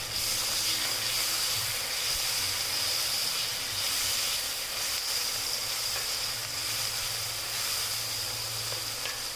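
Small tomatoes and onion sauté in a pan for a shark fish curry, giving a continuous dense hiss and sizzle at steady loudness, close and without talk.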